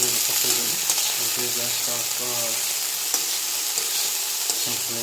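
Hot oil sizzles steadily in a kadai as spices temper for Odia poei dalma, a continuous close frying hiss with faint stirring under a speaking voice.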